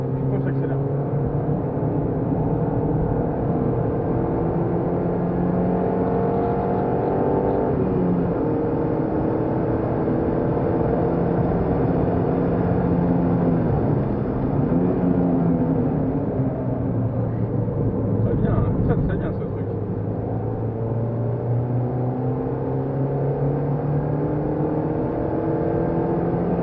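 A Peugeot 206 S16 on the Clastres race track, heard from inside the car, revs hard as it accelerates through the gears. The loud, continuous engine note climbs and drops with each shift, and voices talk over it at times.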